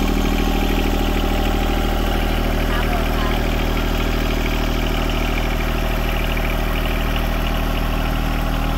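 A tractor engine runs steadily and loudly close by as it drives slowly around a house, a constant low rumbling drone with faint voices underneath.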